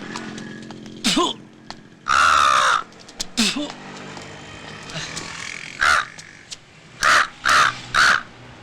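A man imitates a crow with his voice, letting out a series of loud, raspy caws, single and in quick bursts, near and clear, with short pauses and some low murmuring between them.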